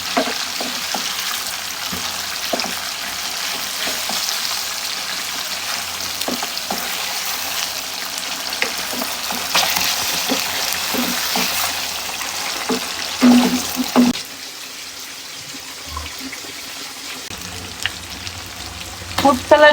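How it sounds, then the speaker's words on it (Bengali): Chicken fries in hot oil with a loud, steady sizzle and crackle for a long stretch, broken by occasional stirring clatters, then quieting to a softer fry near the end. "এদিকে চিকেনটা ভাজা হবে"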